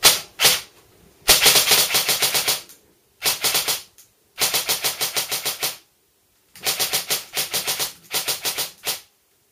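An airsoft RPK firing in semi-auto on an 11.1 battery: bursts of rapid, sharp mechanical clacks in quick series, separated by short silences, loud and close with no talking.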